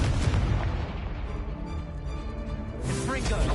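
Blasting Confringo spell effects in Hogwarts Legacy, a run of booming explosive bursts over dense game noise, with a voice speaking during the action.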